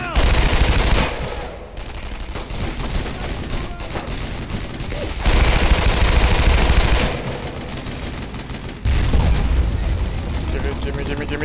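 Sustained machine gun fire in the World War II game Brothers in Arms: Road to Hill 30, a loud, dense, continuous rattle in long bursts with short lulls, over battle noise and shouting voices.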